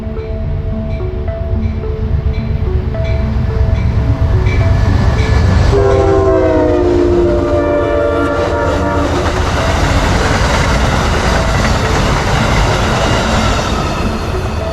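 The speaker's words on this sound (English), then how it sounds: "Oh, and I think I hear another train coming." A train passes near a railroad underpass: a steady heavy rumble of wheels and cars, with a loud multi-tone horn blast sounding midway for a couple of seconds before the rolling noise continues alone.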